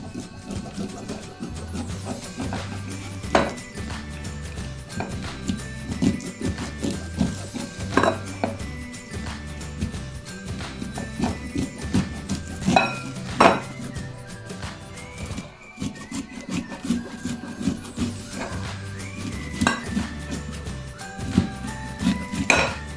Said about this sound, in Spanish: vamos a desgranar nuestros elotes